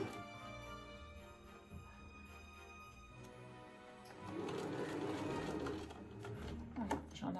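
Sewing machine stitching small braid trim onto fabric for a Christmas tree project, a moderately loud steady whirring run that starts around midway and continues to the end, quieter handling sounds before it.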